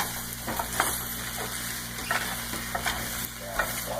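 Stir fry sizzles and crackles steadily in a frying pan, with occasional scrapes and clinks of a utensil stirring it, fairly close and with no talk.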